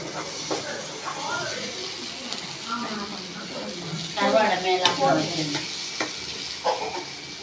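Dried fish and onions sizzle and fry in a pan with steady crackle and occasional stirring scrapes, while people talk over the cooking throughout.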